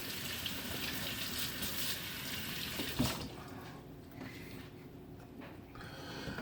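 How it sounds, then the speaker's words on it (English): Hands rinsed under a running kitchen tap while making potato latkes, a steady close gush of water that breaks up and thins as the hands move through the stream. "And now I want to rinse my hands off."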